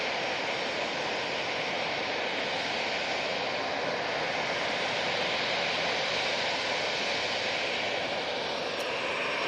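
Jet airliner rolling along a runway at Manchester Airport, a broad steady engine roar held at constant loudness from a distance, with no voices.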